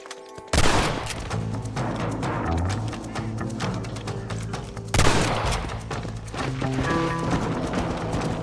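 Western video game shootout with horses: clip-clopping hooves and whinnies over dense music, with bursts of rapid gunfire punctuating the action, loud and busy throughout.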